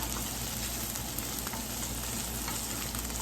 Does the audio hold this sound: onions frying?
yes